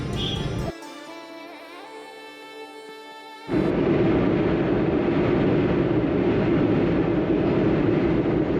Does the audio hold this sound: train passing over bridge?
yes